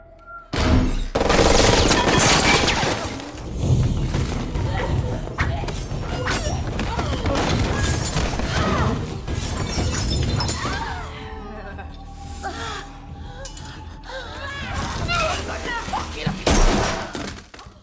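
Gunfire from a film action scene in an apartment, heard as scattered sharp shots and thuds among crashes, music and dialogue, loud and close with bursts clustered at the start and end.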